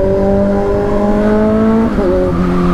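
Close, loud Kawasaki Z900 superbike engine revving, a steady high whine that rises in pitch, dips briefly and climbs again.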